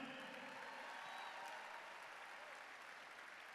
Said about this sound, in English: Big round of applause for Kristen Hartman